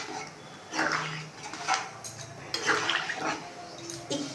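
Boiled chickpeas in a cooking pot are stirred with a few scraping, clinking utensil strokes in bursts, faint and close, with soft wet sloshing between them.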